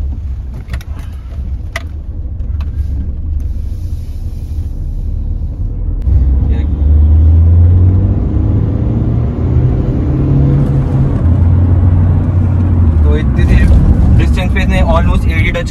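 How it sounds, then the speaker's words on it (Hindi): A second-hand Hyundai Verna pulls away on an empty road during a test drive; a low engine rumble swells and holds steady as it accelerates, heard from inside the car with talking over it. "तो हम आ गए हैं अब इसका ड्राइविंग एक्सपीरियंस ले रहे हैं, तो खाली से रोड देते हैं"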